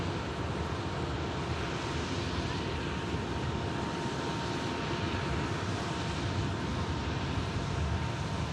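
Virgin Atlantic Airbus A350 on Flight 74 from Orlando arriving at Manchester, heard as a steady broad jet roar that holds evenly throughout without voices.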